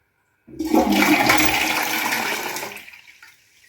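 A toilet flushes in a single loud rush of water that starts abruptly, roars for about two seconds, then tapers off into quiet gurgling and silence.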